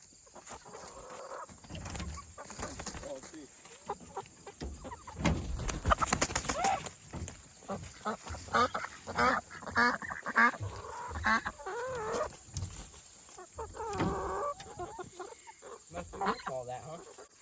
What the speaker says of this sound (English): So the chickens are jumping up in this tree and eating the fruit.